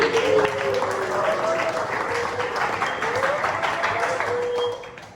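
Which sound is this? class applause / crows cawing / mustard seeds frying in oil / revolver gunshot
class applause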